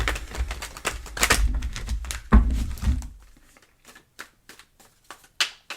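A tarot deck being shuffled, first a loud riffling flurry, then a run of sharp separate snaps and taps as the cards settle, close by.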